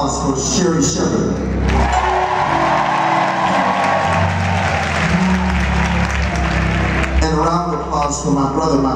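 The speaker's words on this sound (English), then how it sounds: "Won't you please give another round of applause for Sherri Shepard?" An audience at a live R&B concert applauds and cheers for Sherri Shepard, clapping and crowd noise swelling in the middle while a loud voice talks over it and music tones sound at the start and end.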